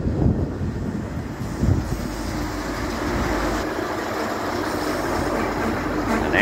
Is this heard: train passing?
yes